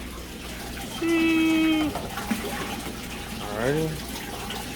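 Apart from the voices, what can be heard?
aquarium tank filling with water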